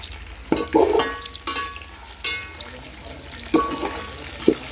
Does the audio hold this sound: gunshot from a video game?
no